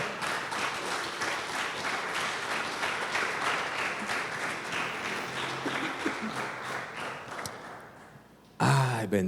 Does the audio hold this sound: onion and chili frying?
no